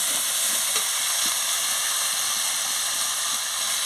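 Chilli powder and spice masala fry in a pan for a fish curry, giving a steady, close hiss that holds level throughout with no voices.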